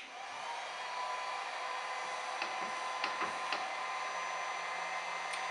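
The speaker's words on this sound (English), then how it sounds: "I'm going to go ahead and apply just a little bit of heat to this so that this is stuck" A heat gun blows steadily while warming vinyl lettering during an install, giving a constant airy roar with a few faint taps and clicks over it and no talking.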